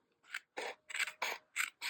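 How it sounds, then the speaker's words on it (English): Scissors snip through paper in six quick, crisp cuts, evenly spaced and close up in a quiet room. "Yes, sometimes I use scissors."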